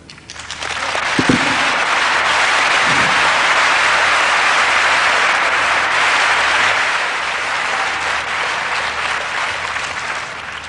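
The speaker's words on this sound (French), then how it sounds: "Tous ces applaudissements, nous les offrons à toi, notre Dieu" A large audience at a religious gathering breaks into loud, sustained applause that swells quickly, holds steady for several seconds, then slowly thins out, with no talking over it.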